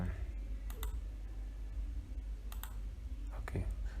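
Sharp mouse clicks inside a cTrader forex trading app, a few isolated taps spread through the stretch over a steady low hum, with no talking.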